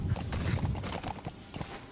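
A horse's hooves thud and clop in quick, uneven succession in the video game Metal Gear Solid V, a brief, fairly close burst of low footfalls lasting under two seconds.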